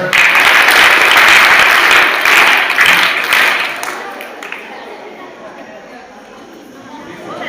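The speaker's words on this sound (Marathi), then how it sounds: "विद्यार्थ्यांना टाळ्या वाजवा" A crowd of students at a high school event applauds loudly and continuously for several seconds, then the clapping fades away into quieter background murmur and room noise.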